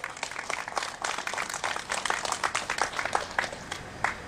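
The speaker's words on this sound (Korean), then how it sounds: "뜨거운 박수로 모셔보겠습니다" A crowd at a tenants' protest rally applauds to welcome a speaker, with fairly faint, distinct claps that build into steady clapping and continue throughout.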